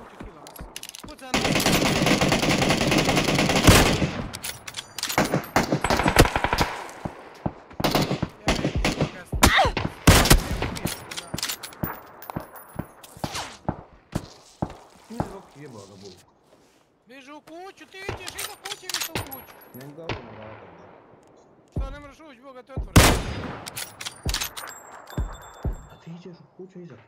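Rapid automatic gunfire and single shots from a PUBG battle royale match on the Erangel or Sanhok map, with loud bursts and scattered cracks throughout, under excited players talking over voice chat.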